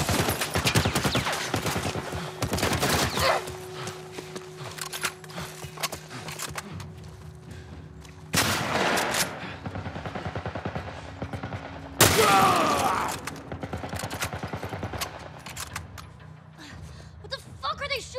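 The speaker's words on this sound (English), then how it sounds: "What the fuck are they shooting at us with? Some kind of military turret." Military turret gunfire in The Last of Us Part I on PS5, aimed at the players: dense rattling bursts fill the clip, with loud sharp blasts near 8.5 and 12 seconds, and voices talk over it.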